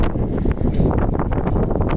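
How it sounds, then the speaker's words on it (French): Gusty wind buffeting the microphone on a Tokyo street in the late afternoon, a continuous loud rumbling roar with fluctuating gusts and no speech. "là il y a un peu de vent, ne vous inquiétez pas"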